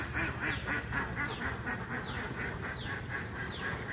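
Several ducks call out near a paddy field in the rain, a dense run of rapid, evenly spaced quacks close at hand, continuing without pause over steady background hiss.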